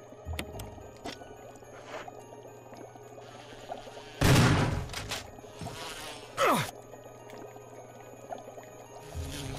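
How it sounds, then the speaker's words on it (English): Bees in Resident Evil HD Remaster buzz in close, wavering bursts, mixed with game effects and louder splashy hits. "I hate bees"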